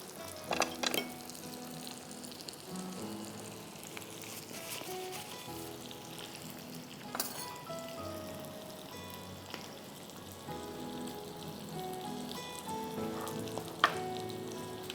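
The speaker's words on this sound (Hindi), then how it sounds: "चलें, जब तक ये फ्राई हो रहा है" Shrimp sesame tikka frying in a pan, a steady crackling sizzle with scattered sharp pops and spatters, close and fairly quiet.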